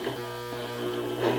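A sewing machine stitching slowly under light foot pedal pressure, a steady low motor hum with a soft mechanical buzz, close and fairly quiet.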